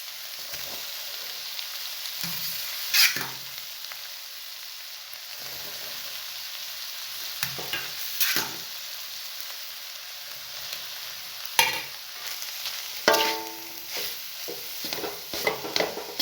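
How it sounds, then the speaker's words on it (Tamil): Cooked rice being stirred into keerai (greens) biryani, with intermittent soft scraping and stirring strokes over a steady faint hiss, some sharper clinks of the spoon against the pot, no talking. "இப்போது சோறு வேக வச்சு எடுத்து வச்சுருக்கோம்ல, அதை கொஞ்சம் கொஞ்சமாக போட்டு கிண்டிக்கலாம்."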